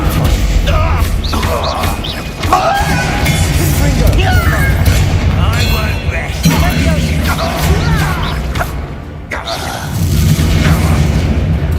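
Spell casting in the video game Hogwarts Legacy: dense, loud combat with repeated booms, crashes and magical bursts layered over game music, with voices speaking throughout.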